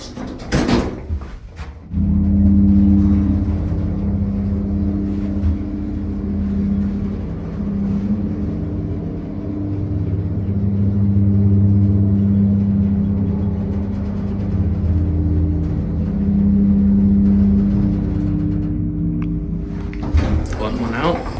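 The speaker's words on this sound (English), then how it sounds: "Let's listen to that motor again." Westinghouse hydraulic elevator pump motor in a tower, a steady low hum with tonal drones that runs for about twenty seconds, beginning and ending with brief clatter, alone without talk.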